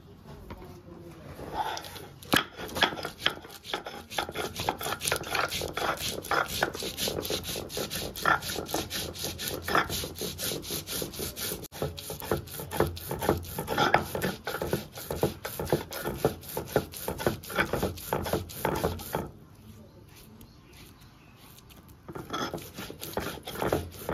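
Mustard and poppy seeds are ground into a paste with steady, rhythmic rubbing and scraping strokes that continue close up for about nineteen seconds, pause briefly, then resume.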